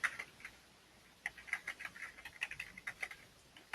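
Fingers type a response on a computer keyboard, a light, close patter of irregular keystrokes in quick bursts with short gaps, faint against a quiet background.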